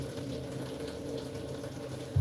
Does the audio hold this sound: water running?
yes